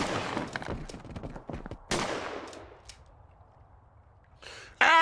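Gunshots ring out in the horror game Horror Tales: The Wine, a burst of sharp cracks followed by single louder shots with decaying echoes, then a quiet gap before a final loud report.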